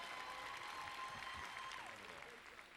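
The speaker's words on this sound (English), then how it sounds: "a big round of applause for Scott Grossman" Steady applause from a crowd at the Miss USA 2006 presentation show fills the space, continuous clapping heard at a moderate distance.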